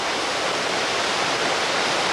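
A waterfall at Tad E-Tu pours in a steady, dense roar of rushing water, constant and fairly loud throughout with no voices over it.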